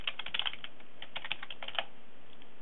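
Quick, light clicks from a computer keyboard as a password is typed: a close, crisp burst of keystrokes that slows and trails off into near silence.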